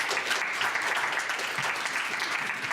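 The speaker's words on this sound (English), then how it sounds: "So let's give him a round of applause." Audience at a university careers panel applauding a speaker, a dense, steady round of clapping from many hands that stays even throughout, without voices.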